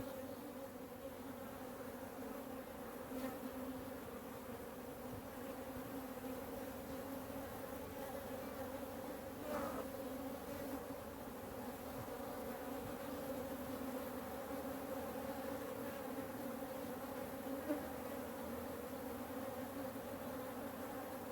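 African honey bees hum in a dense, steady drone around an open hive after winter, a continuous close buzz with no voices.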